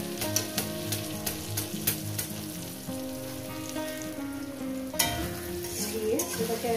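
Ground spices and crushed ginger sautéing in a pan, a continuous close sizzle broken by regular scraping stirs of a spatula, with one sharper clatter partway through and no talk.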